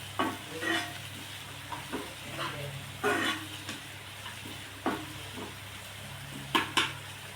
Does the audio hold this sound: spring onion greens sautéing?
yes